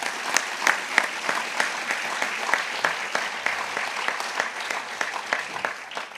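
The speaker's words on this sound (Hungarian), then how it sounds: "A második taps azért a Bújtor Juditté, aki továbbvitte, nem engedte, hogy megálljon, tartalommal töltötte meg." Audience applause at the opening of the renovated Bujtor István stage in Tihany, dense steady clapping from a crowd with distinct individual claps, moderately loud and sustained without talk.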